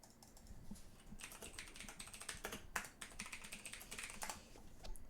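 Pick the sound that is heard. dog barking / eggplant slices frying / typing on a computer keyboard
typing on a computer keyboard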